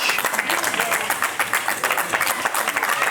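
Steady crowd applause at a wrestling match fills the space, a dense wash of many hands clapping at a constant, fairly loud level throughout.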